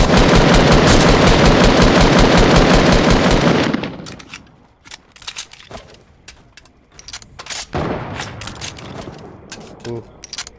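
Loud, dense automatic gunfire in a shooter video game, a continuous burst for several seconds, then scattered individual shots and a second volley trading back and forth, close and punchy, with a voice speaking over parts of it.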